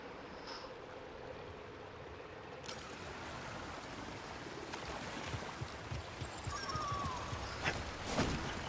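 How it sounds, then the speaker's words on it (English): Rushing water from a waterfall in Star Wars Jedi: Survivor, a steady broadband roar that swells slightly louder partway through, with scattered footstep-like thumps and a few brief clicks over it. "Waterfall."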